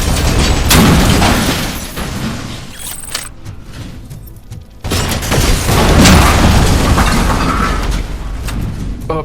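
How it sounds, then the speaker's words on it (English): Rocket launcher fired in the video game RoboCop: Rogue City, loud booming blasts with a heavy low rumble, two main surges separated by a brief quieter gap, close and dominant with no voices. "Can't believe there's an actual active rocket launcher at my disposal. Does have a mean kick to it"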